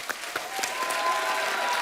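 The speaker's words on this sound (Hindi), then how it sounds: "जयेश भाई जोरदार के लिए जोरदार तालियां" Studio audience clapping on a comedy talk show, a brief burst of applause that swells from scattered claps into a fuller, moderately faint wash.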